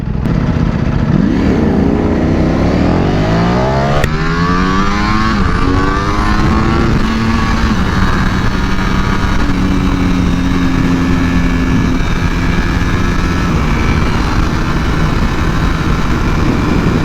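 A Ducati Panigale V4R motorcycle roars loudly on a sunset ride, its engine revving up through rising sweeps and then holding a strong, steady high-pitched drone at speed, with no talking.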